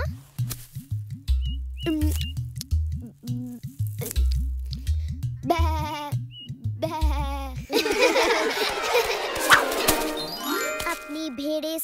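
Cartoon sheep bleat in wavering, shaky cries from a Little Krishna animated episode, set over a bright tinkling jingle with plucked musical notes and a busy orchestral swell.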